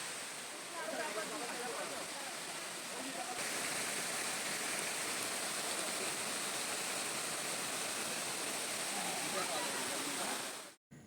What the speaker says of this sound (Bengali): চারিদিক দিয়ে পুরো একদম ঝর্নার সুন্দর আওয়াজ